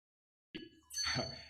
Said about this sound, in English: the bell means our time's up.